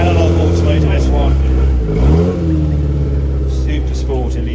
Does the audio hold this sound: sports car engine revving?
yes